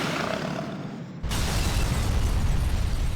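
Weapons firing and an explosion in a GTA 4 in-game TV show: a sudden loud blast erupts into a sustained, dense roar of fire and rumble that continues steadily after the hit, with no speech.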